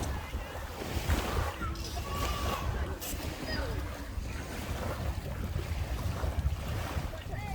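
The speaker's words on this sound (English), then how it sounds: "Three or four ski boats." Three or four ski boats run out on the water at Water's Edge near Fleetwood Market in Blackpool. Their engines are a distant, rumbling wash, partly buried under steady gusting wind on the microphone.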